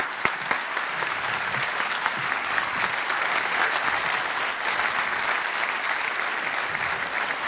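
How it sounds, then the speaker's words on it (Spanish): Audience applause fills a hall as a speaker is welcomed onto a stage in Uruguay, a steady, dense clapping with a few sharper claps at the start, sustained at even loudness throughout with no talk. "un fuerte aplauso"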